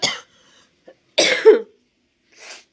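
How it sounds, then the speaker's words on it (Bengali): A woman coughs in three separate bursts, close and loud, with short silences between them. The middle burst is the strongest and ends in a rough, throat-clearing rasp. "ভালো লাগছে না, এত কাশি,"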